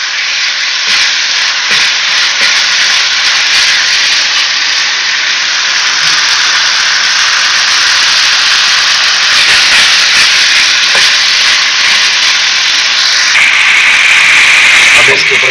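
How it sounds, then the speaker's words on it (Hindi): Minced meat (keema) sizzles in a pan with a loud, steady frying hiss that runs without a break and brightens slightly near the end, while a voice speaks over it. "इसको अच्छे तरीके से भून लेंगे हम।"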